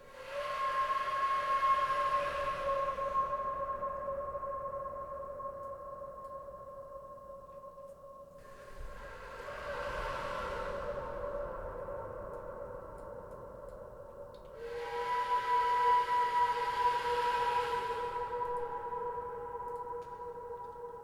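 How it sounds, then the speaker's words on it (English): A distant siren-like tone drenched in a long echo reverb effect rises and fades in three broad swells, sounding far away and hollow, with no voices. "It's like a cool echo."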